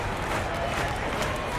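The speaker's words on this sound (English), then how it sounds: "Fans clapping along." Baseball fans in a video game crowd clapping along at a Mets vs. Cardinals game, a steady distant wash of crowd noise with soft rhythmic clapping throughout.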